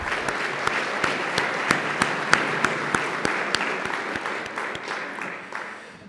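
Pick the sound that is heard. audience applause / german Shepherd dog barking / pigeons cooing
audience applause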